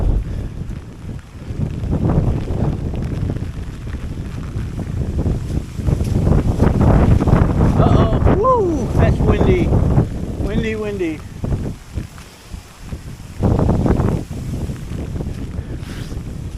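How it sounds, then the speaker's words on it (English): Wind gusting outdoors after Hurricane Nicole, a rushing, buffeting roar that swells and fades in waves across the microphone, with short vocal sounds in between. "See how they just fold up and over when the wind blows?"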